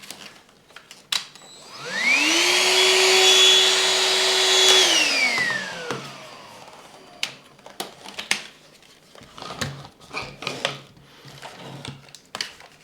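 Rowenta Dual Force 2in1 cordless vacuum cleaner (RH6735) whirring up to a steady high whine and then spinning down, followed by scattered plastic clicks and handling knocks.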